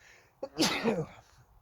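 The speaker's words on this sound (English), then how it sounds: "What I can do, however, is sneeze." A single sneeze, sharp and close, a quick intake followed by a burst, with quiet before and after.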